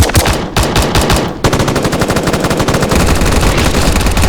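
Light machine gun firing in a Roblox shooting game: long rapid automatic bursts, loud and close, with a brief gap near the start before a steady stream of shots continues to the end.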